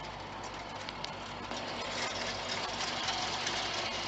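A 2019 Roxor fitted with a turbo intake valve drives uphill, its engine giving a steady, rough mid-pitched drone with a slight knocking texture that swells a little toward the end. No one speaks.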